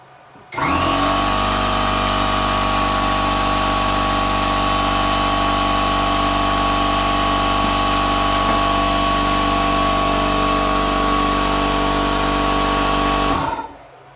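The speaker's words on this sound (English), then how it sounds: "Sorry about that, had the compressor kick on." An air compressor kicks on abruptly and runs with a loud, steady mechanical hum and whine for about thirteen seconds, then cuts off sharply, close by with no talk over it.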